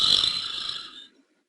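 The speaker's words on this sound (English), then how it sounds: "Inhale again for me. Deeply. And exhale." A single long, deep exhale during a bedtime yoga session, a breathy hiss that starts strong and fades out over about a second into silence.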